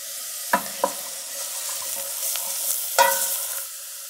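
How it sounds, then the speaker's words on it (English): Mirepoix vegetables cooking down in a pan to soften and turn golden for espagnole sauce, a soft steady sizzle broken by a few scraping stirs, close and fairly quiet with no talking. "We're going to let this cook down for a few minutes, 7 to 8 maybe, until the vegetables are nice and soft and golden"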